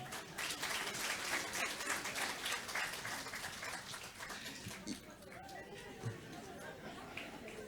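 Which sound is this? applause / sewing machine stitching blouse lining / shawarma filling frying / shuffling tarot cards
applause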